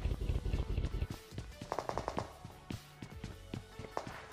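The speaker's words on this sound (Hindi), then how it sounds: "वहाँ से फायरिंग की आवाज़ आती है" Gunfire in a solo-versus-squad battle royale match: rapid automatic bursts and scattered single shots, mid-distance and fairly quiet, with no talking.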